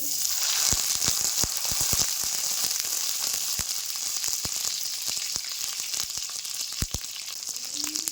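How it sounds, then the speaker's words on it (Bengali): A taro leaf wrapped around fish fries in hot garlic-infused oil. It gives a steady close sizzle broken by many sharp pops and crackles, with no talk. "রসুন ভাজা তেল ছিল সেই তেলটাই কিন্তু আছে এই তেলের মধ্যে এই পাতাটা বসিয়ে দেব"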